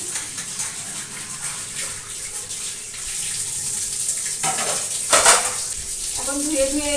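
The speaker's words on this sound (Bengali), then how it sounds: "চলো, আমার তো এই হাফ সিঁড়ি ঝাড় দিয়ে পাত্রগুলো মেজে ধুয়ে নিচ্ছি।" A tap runs steadily while metal pots are scrubbed and rinsed, water splashing and hissing throughout, with a few louder clanks and scrapes of the pots near the end.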